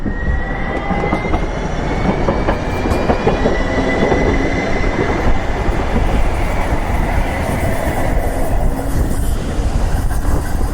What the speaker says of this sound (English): The train stopped traffic for me.